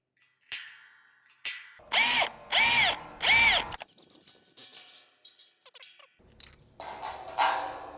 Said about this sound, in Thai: อ่ะเดี๋ยวเราจะเจาะนะก่อนเจาะเดี๋ยวมาร์กก่อน